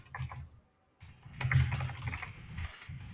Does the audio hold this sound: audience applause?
no